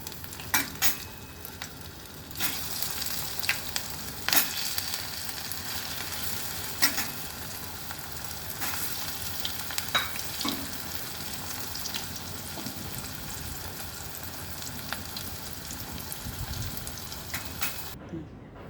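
Stuffed spiny gourds filled with masoor dal fry in hot oil, giving a continuous close sizzle broken by occasional spatula scrapes and pops, with faint speech.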